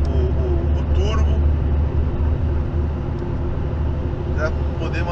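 A truck engine labors steadily uphill on a mountain road in eighth gear at about 1,400 rpm with the turbo engaged, a deep continuous drone close by, with a voice speaking over it.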